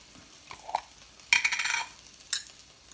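A spoon stirs ketchup and mayonnaise together into burger sauce, making a few faint scraping and clinking strokes, one louder smeary stir in the middle and a final light tap against the dish.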